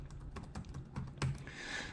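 Fingers typing on a computer keyboard's home row in quick random drills alternating hands, a close, crisp patter of individual key clicks with uneven rhythm, alone without talk.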